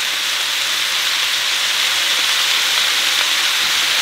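Onion frying in warm oil while making kung pao chicken, a loud, steady, hissing sizzle close by, continuous and unbroken.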